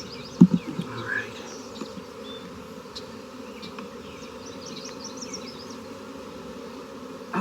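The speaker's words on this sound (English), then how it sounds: "We'll just shake some bees off of this." Honeybees shaken off a hive frame with nectar coming in give a steady low hum throughout, opening with a few sharp thumps from the shake, then a thin, constant buzz near the listener.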